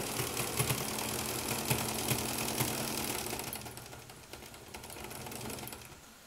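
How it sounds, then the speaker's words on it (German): An Aster BR01 live steam model locomotive with a spirit wick burner running in reverse, giving a rapid, even mechanical chuffing and clatter that holds steady and close before easing and softening toward the end. "Und auch rückwärts läuft die Maschine gut an."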